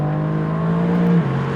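A Mercedes-AMG GT R Pro drives out of a circuit hairpin with its engine holding a loud, steady drone. The engine briefly swells, then its pitch drops as it keeps pulling.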